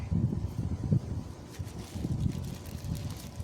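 Gusty wind blowing outdoors at a greenhouse, rumbling steadily into the microphone with uneven surges and no voices.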